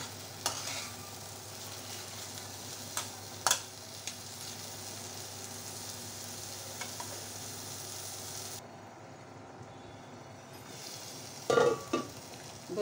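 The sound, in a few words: meat being sautéed and stirred in a pan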